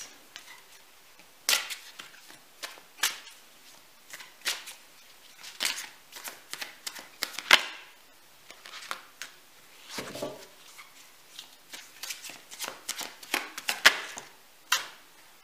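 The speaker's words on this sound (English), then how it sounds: "So I'm just going to move these cards." Tarot cards are shuffled and moved about on a table during a psychic reading: scattered sharp slaps, flicks and brief riffles in irregular bursts, close up and without speech.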